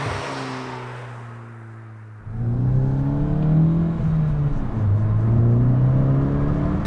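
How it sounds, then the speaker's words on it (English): Stock-intake VW MK8 GTI engine revving, a steady idle drone that steps up into rising and falling revs with some induction noise, close and alone. "You can hear some of the air induction, which is nice, but it's not aggressive."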